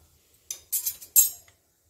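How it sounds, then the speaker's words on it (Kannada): A spoon scrapes and clinks against a metal vessel while chili powder is mixed into hot oil for instant mango pickle. There are a few short, sharp scrapes with one louder clink near the end and quiet gaps between them. "ಈಗ ಒಂದ್ಸಲ ನೀಟಾಗಿ ಮಿಕ್ಸ್ ಮಾಡ್ಕೊಳ್ಳೋಣ"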